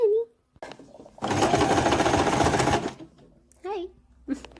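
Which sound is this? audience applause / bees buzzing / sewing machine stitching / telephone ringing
sewing machine stitching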